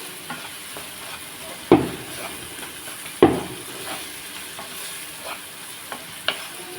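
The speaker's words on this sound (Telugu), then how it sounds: "మనం కలిపేసుకుని మూత పెట్టుకుందాం ఇలాగా ఉల్లిపాయ అంతా మగ్గుతుంది" Onions fry in a pan with a steady close sizzle while a utensil stirs and scrapes, with two sharp metallic knocks against the pan and a few lighter taps later.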